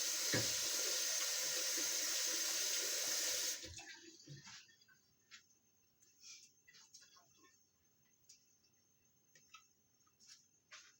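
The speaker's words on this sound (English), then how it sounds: "Wash my hands again." Tap water runs hard into a kitchen sink during handwashing for a few seconds and then shuts off, leaving faint drips, small clinks and quiet background chirping.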